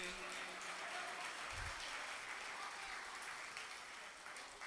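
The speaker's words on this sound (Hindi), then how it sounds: "ताली बजाइए" An audience at an international poetry recital (mushaira) applauds, a steady wash of clapping from the crowd heard at a moderate distance and fairly faint.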